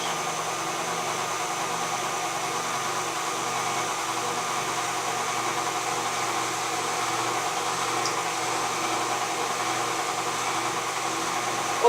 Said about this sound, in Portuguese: Observem que a batedeira continua sempre em velocidade baixa.